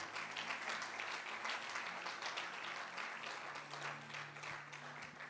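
A church congregation at a Sunday thanksgiving service claps and cheers in a dense, continuous wash of applause, steady and moderately distant throughout.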